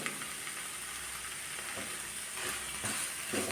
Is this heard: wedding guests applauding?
no